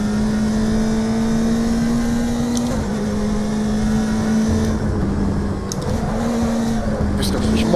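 A BMW touring car in the RaceRoom racing game at Laguna Seca, a steady engine drone holding one pitch with small shifts, heard under ongoing conversation.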